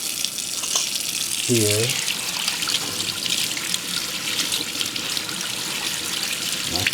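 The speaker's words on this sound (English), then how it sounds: "So I'm gonna rinse my almonds" Steady tap water runs and splashes continuously while raw almonds are rinsed in a sink, with a brief spoken word partway through.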